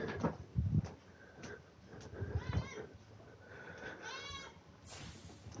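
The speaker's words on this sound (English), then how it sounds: "I promise I hear you, cat." A hungry house cat meows insistently, several drawn-out cries close by, mixed in with a voice and some background noise.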